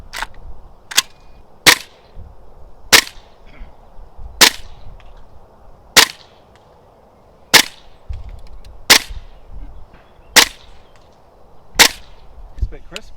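A TM MWS gas-blowback airsoft M4 rifle fires a series of sharp, crisp, close cracks, spaced roughly a second apart, with faint background murmur between shots.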